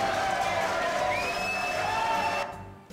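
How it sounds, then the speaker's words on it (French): A television studio audience on a French game show cheers and applauds a contestant, a loud crowd roar with whoops and whistles rising over it, dropping off abruptly near the end. "Applaudissements pour Luc, Louis."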